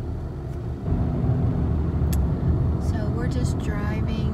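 A car drives along a road through Davis, Oklahoma, with a steady low rumble of engine and tires heard from inside the cabin, while people talk faintly over it.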